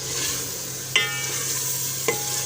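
Chicken frying in a pan for a chicken curry, a steady sizzle running throughout with two brief sharp clinks of stirring, close and moderately loud, no voices.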